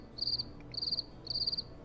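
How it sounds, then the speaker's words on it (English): A cricket sound effect plays: three short, high, buzzing chirp trills in an even rhythm, faint against quiet low background noise. "I found crickets on YouTube. And I took the cricket sound and I created several tracks of the same"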